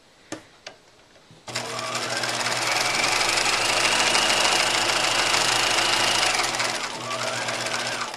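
A sewing machine stitches a pant seam for pajama pants, running steadily and loud for about seven seconds after a few faint clicks, then easing slightly near the end.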